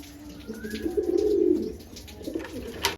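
Madras pigeons coo in a soft, low rolling phrase close by, swelling in the middle and trailing off, with a faint chirp near the end.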